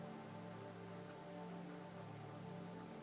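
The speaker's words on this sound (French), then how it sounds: "On entend bien la pluie, comme un chuchotement lointain." Steady rain falls at a Finnish spa, a soft, even hiss of drops on surfaces that continues unbroken and faint throughout, with no voices.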